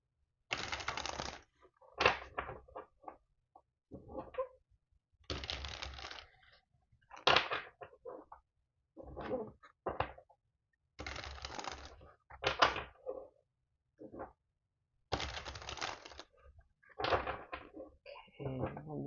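Tarot cards are shuffled in a quiet room, giving repeated short riffling bursts of papery flutter and soft taps with pauses between them.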